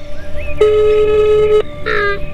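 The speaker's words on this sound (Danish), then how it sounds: "Er du også ved at få pip af den samme gamle opkaldstone, når du ringer op?" A phone ringback tone sounds during an outgoing call, a single steady electronic tone lasting about a second, followed by a short burst of another tone, clear and close.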